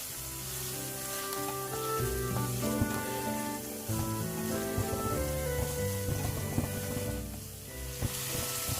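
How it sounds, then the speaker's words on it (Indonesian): Chili sambal sautéing in a pan with kaffir lime leaves, bay leaves and lemongrass, giving a steady sizzle over a low tonal hum, with no talking. "Saya tumis pakai daun jeruk, daun salam dan juga serai ya Mam."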